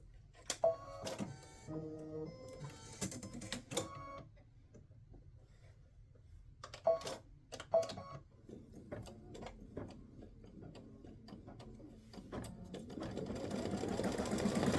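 An embroidery machine stitches lettering in purple thread on a Halloween cowboy ghost patch. Its fast mechanical stitching comes in several close bursts with quiet pauses between them, and a steadier run builds near the end. No one speaks.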